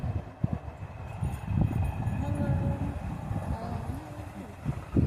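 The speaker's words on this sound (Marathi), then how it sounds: "ही बघा तिकडे ट्रेन चालली आहे." Low, continuous rumble of a train rolling past at a distance, with muffled voices mixed in.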